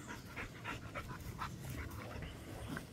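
A dog pants steadily and close up, quick rhythmic breaths repeating for about three seconds with a faint whimper, and no one speaks.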